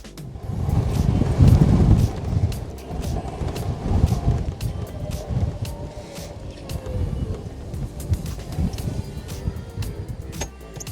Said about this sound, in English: If you can't tell, it's still windy.